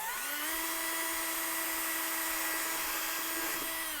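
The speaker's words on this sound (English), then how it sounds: "I'm gonna get my drill set, and once again, I'm gonna start small and move up big until we reach a 3/8" Power drill boring holes in the plastic body of a Power Wheels Mustang toy car, a single steady high-pitched whine that holds for several seconds before spinning down at the end, close and loud with no talking.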